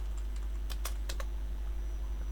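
A handful of quick clicking keystrokes on a computer keyboard, close and clear over a steady low hum, with no talking.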